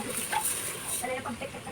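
A chicken clucks a few times in a bright, busy outdoor setting, its short calls rising over steady background noise, with people talking nearby.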